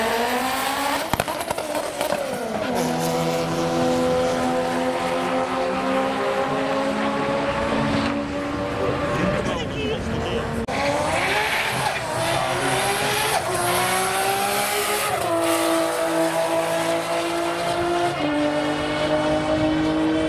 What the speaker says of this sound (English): We have a white chaser. He is doing a burnout at the line.